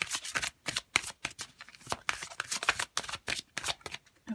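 A deck of oracle cards is handled and riffled, giving a rapid series of crisp papery shuffling bursts at close range with short pauses between them. Nobody speaks.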